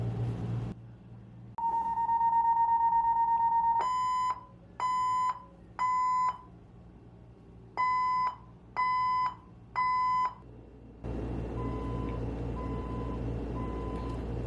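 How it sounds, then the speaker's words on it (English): A building alarm rings out indoors: a long steady electronic tone, then two sets of three sharp, loud beeps, then a fainter pulsing tone over a low hum. "This alarm has been going on for a very long time."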